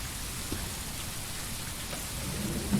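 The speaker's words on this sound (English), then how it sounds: "Okay, so still raining." Steady rain patters in the Tourist Bus Simulator game, with a low thunder rumble underneath and a faint swell near the end, no voices.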